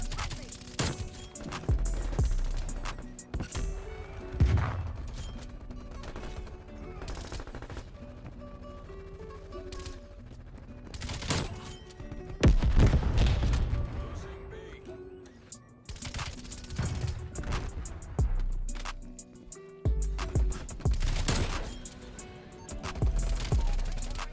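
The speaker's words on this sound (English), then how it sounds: "You start shooting at me and throwing a nade?" PPSH-41 submachine gun fire and a thrown grenade in Call of Duty Cold War multiplayer, heard as repeated loud rapid bursts and sharp crashes spread across the stretch, with denser volleys near the middle.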